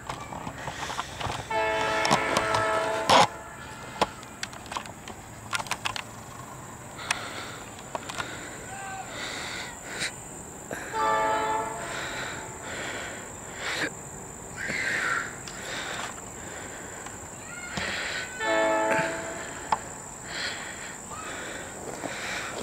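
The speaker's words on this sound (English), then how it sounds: "might as well get ready for the train heading out" A 2013 fair train led by Monon locomotive 83A rumbles past heading to Fishers, its loud horn sounding several times in repeated blasts, steady rolling noise throughout and faint background chatter.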